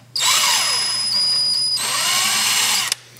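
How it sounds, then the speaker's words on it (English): A power drill with an 11/64 bit whines steadily at close range, drilling metal, running continuously for almost three seconds with a brief dip in the middle, then stops. "I just drill that initial dimple"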